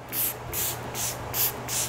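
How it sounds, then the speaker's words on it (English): A BLK Fresh face mist is sprayed onto the face in five short, soft hissing bursts at a steady rhythm, close and clear, with no talking. "Ang sarap niyang i-spray sa face."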